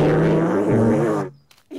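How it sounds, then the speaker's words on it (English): A recorder played badly by a beginner gives a loud, wavering, breathy tone with pitch slides for over a second, then cuts to near silence before a brief return. "Until I'm good at playing the recorder."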